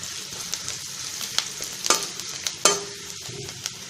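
Sliced onions with turmeric sizzle and fry in a pan for okra bhaja while being stirred, with soft frying noise under a few sharp scraping clicks of the spoon.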